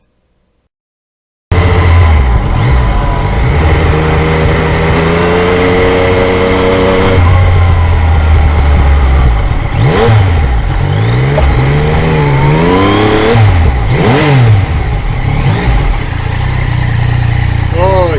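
A 2020 Yamaha MT-09 motorcycle engine drones loudly while riding on salty roads, rising and falling in pitch as the rider accelerates and shifts, with heavy wind rush and someone talking over it.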